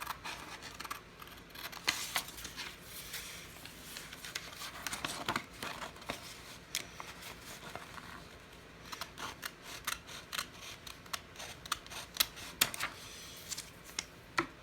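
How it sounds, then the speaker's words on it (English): Quiet, close snipping and crinkling of paper being cut with scissors, irregular small clicks and rustles with no talking. "Use these scissors to cut it out."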